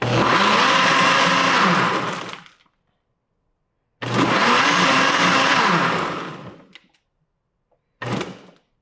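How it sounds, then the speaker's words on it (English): A high-end countertop blender whirs loud and steady through a smoothie in two long runs of about two and a half seconds each, then gives one short final burst, with silence in between. "This is a fancy blender."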